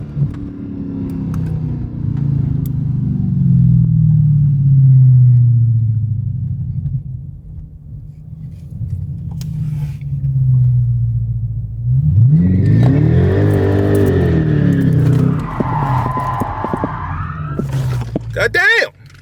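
Dodge Charger Scat Pack doing a burnout on old tires, a loud rumbling V8 idle swelling into a hard rev with rising engine pitch and screeching tire spin, lasting several seconds before cutting off.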